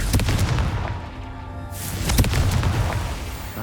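Confringo spell blasts in Hogwarts Legacy burst out several times, sharp booming cracks with fiery crackle, loud and close, separated by short gaps.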